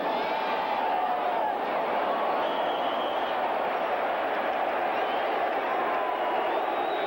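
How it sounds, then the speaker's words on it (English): A stadium crowd boos at a 1984 Monday Night Football game between the LA Raiders and Detroit Lions, a dense, steady roar of many voices holding at even loudness for the full stretch with no talk over it. "Oh, they're booing"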